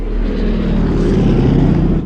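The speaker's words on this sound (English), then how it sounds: "Outside, Tom briefly hears the sound of an airplane passing overhead," A propeller airplane passes overhead outside a remote cabin, a steady low droning engine rumble that holds at an even loudness for about two seconds before easing off at the end.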